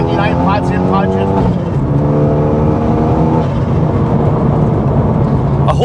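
Renault Megane RS engine pulling hard while driving, a loud steady engine drone rising and falling in pitch through gear changes, heard from inside the car.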